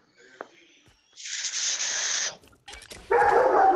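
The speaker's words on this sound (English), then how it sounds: "Oh crap, the dogs." Dogs bark and yip close by in short, loud bursts. Quiet gaps fall between the bursts.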